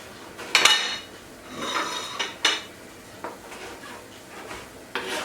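Knife chopping a tomato into small cubes on a board, giving a handful of sharp, close knocks spaced irregularly, with light scraping and kitchen clatter between them and no talking.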